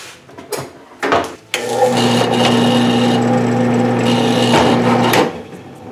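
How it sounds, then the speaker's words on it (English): A drill press used in making a fishing lure starts up after a few knocks and runs with a steady electric motor hum for about three seconds, then spins down. "I gotta plug my drill press in."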